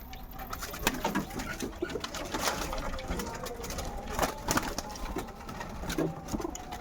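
Black Kaldom pigeons coo repeatedly at close range, soft rolling calls mixed with fluttering and a steady mechanical whir, with occasional faint talk.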